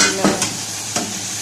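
Meat is dropped into okra and stirred in a pan, giving a few soft scraping stirs and faint sizzling, close and brief.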